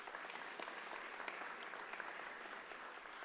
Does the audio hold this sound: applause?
yes